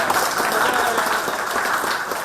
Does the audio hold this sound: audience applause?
yes